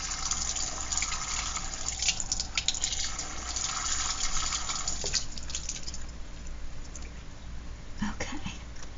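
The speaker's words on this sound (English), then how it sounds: "I'm going to just try to put water in it." Water from a tap is poured into a craft container for an ephemera holder, giving a steady, close gushing and trickling flow that runs on for several seconds.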